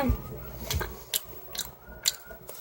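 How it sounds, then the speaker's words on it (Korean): Crunchy Pokémon chocolate shaped like a snack bitten and chewed close to the mic, a few sharp crisp crunches spaced through a short quiet stretch with faint soft mouth sounds between. "한입 먹어볼게요."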